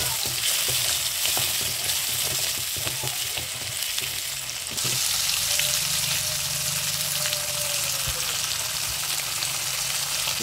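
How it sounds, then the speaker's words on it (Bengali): Whole cumin seeds and tomato fry in hot oil in a pan with green chilli, preparing the base for a shol fish curry. The sizzle is loud, steady and close throughout, with occasional stirring scrapes and no talking. "গোটা জিরে, টমেটো দিয়ে এটাকে ভালো করে ভেজে নেব।"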